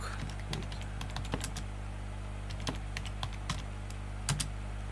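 Typing on a computer keyboard during a word-processor lesson: sparse, irregular clicks and key taps close by, with brief pauses between keystrokes and no voice.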